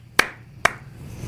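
Two sharp hand claps ring out about half a second apart, close and crisp, each with a short fading tail against a quiet background.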